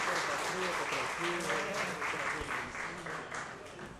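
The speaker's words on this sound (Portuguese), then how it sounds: "Uma salva de palmas para o autor" A ceremonial session's audience applauds the composer of the Rio Branco anthem: steady, dense clapping fills the whole stretch at close range, with faint voices mixed in underneath.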